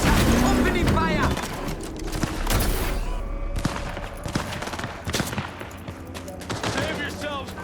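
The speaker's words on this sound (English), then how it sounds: "Enemy contact! Opening fire!" Gunfire in the Cyberpunk 2077 video game: loud, rapid bursts of automatic shots crackle over a dense, busy game soundscape, with repeated sharp volleys running throughout.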